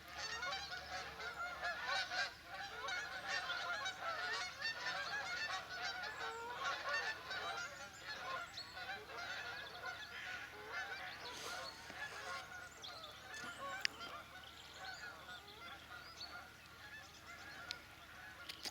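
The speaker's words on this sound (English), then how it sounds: "with these geese to go past." A flock of geese honks continuously by the River Swale, many overlapping calls blending into a steady noisy chorus outdoors.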